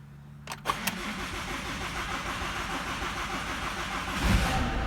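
A Ford Mondeo Mk5 2L diesel with a broken timing chain starting up: a couple of cranking bursts, then the engine catches and settles into a rough, steady idle clatter, close and alone, swelling slightly near the end.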